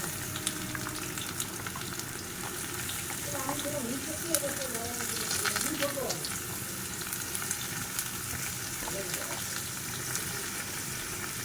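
Spices and panch phoron sizzle and crackle steadily in hot oil alongside red lentils, a continuous close frying hiss with faint stirring movements and no talking.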